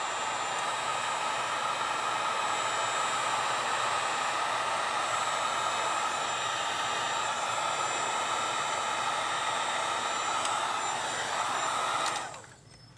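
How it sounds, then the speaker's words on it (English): A heat gun blows hot air to shrink heat-shrink wrap around a battery pack, a loud, steady rushing roar that runs continuously and then cuts off abruptly near the end, with no talking. "Here's our heat gun, and we're just going to shrink wrap"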